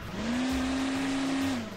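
A car engine in the video game Hill Climb Racing 2 holds a steady high-pitched whine that rises at the start and drops at the end, close and loud over a rumbling tire and road bed.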